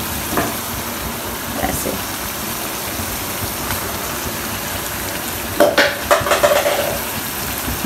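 Halved tomatoes laid cut-side down into hot oil in a karahi while cooking chicken karahi, a steady low sizzle throughout with a louder crackling burst near the end as they go in; someone speaks briefly.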